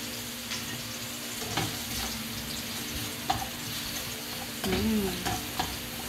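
Garlic frying in coconut oil in a pan, a soft steady sizzle with occasional spatula scrapes and clinks, fairly quiet and close, no talking.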